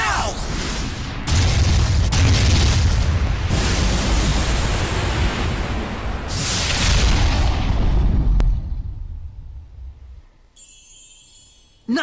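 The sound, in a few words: cannon shot explosion in the video game Tales of Zestiria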